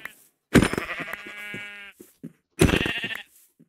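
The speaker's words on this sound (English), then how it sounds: "Ooh, we even found sheeps." Sheep in the Minecraft video game bleat in two loud, close calls separated by a short gap, the first drawn out and wavering, the second shorter, with no talk over them.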